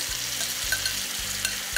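Shrimp sizzle in a hot pan with garlic, a steady loud frying hiss with rhythmic stirring scrapes, close and without talk.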